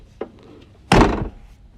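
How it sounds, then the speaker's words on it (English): A car door on a 1994 Mustang GT with a shifted body, shut with a soft tap and then a loud, dull slam that fails to latch cleanly, close by with no one talking. "The door's not actually closing right."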